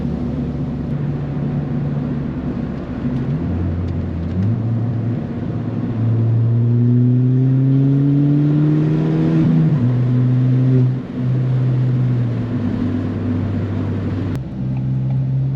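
Ford Fiesta ST with a Stage 1 tune and MBRP XP Series exhaust, heard from inside the cabin with the windows down: a loud engine drone rising in pitch through the gears, a dip and climb again, steady and continuous.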